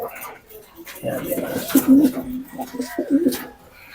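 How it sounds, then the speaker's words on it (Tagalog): A racing pigeon hen gives soft, low throaty coos in a loft, close by and muffled, with people talking nearby. "Etong hen, ang bloodline naman ito is ano, Roger Florison din"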